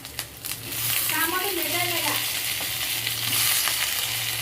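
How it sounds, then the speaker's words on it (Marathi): Tomato sizzles and fries in a pan with roasted coconut for a black masala curry. A steady, close, crackling sizzle continues throughout, while a voice briefly speaks over it. "टमाटा पण आपल्याला चांगला खोबऱ्यामध्ये छान असा भाजून घ्यायचा"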